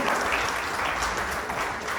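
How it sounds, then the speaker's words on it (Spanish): A church congregation applauds in a continuous, dense burst of clapping filling the room without speech. "Dan un aplauso al Señor"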